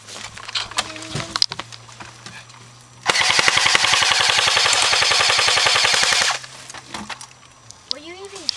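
An airsoft gun such as a JG G36, Thompson or CYMA AK-47 fires a long, steady stream of rapid mechanical clicks lasting about three seconds during an outdoor fort skirmish, with scattered single shots before and after.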